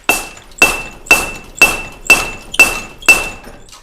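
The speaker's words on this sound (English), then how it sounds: "the treadle hammer, and boy does it hit hard" Seven heavy metallic strikes from a blacksmith's treadle hammer land at a steady, even pace about half a second apart, each sharp and ringing with a bright tone, loud and close.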